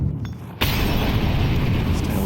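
Molotov fire bottles burst in a Counter-Strike match: a sudden loud whooshing roar erupts and holds as a dense, steady crackling blaze, with no talk over it.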